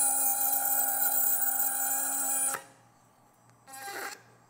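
A rotary burr cuts through the acrylic lingual flange and distal extension of a denture, giving a loud, steady high-pitched grinding whine for about two and a half seconds before it stops abruptly, followed by a brief, softer burst of cutting.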